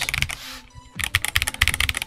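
Keys clack in quick irregular bursts on a Redragon K649 Elf Pro keyboard, close and fairly loud, with a brief pause before the typing resumes.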